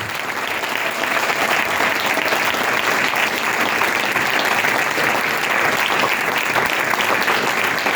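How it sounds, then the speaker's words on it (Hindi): A church congregation applauds loudly and continuously for several seconds, a dense, even roar of clapping with no pauses. "यीशु के जलाल के लिए बजाइए जोरदार ताली।"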